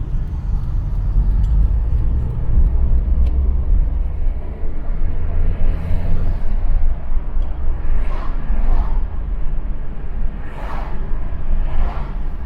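Interior of a Peugeot 106 driving through town, with a steady low engine and road rumble throughout, plus occasional whooshes of passing traffic, loud and continuous with no talking.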